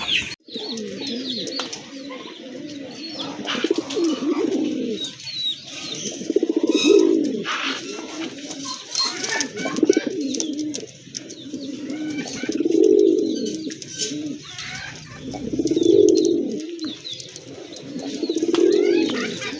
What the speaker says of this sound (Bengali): আপনারা দেখতে পাচ্ছেন একটা কবুতর খুবই ডাকাডাকি করতেছে